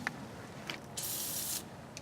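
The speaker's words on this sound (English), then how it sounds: "let's see if we can just get a spot of penetrating oil on these guys" Penetrating oil sprays in bursts onto the brake caliper bolts of a 1988–91 Honda Civic: several quick faint spritzes and one longer hiss of about half a second in a quiet garage.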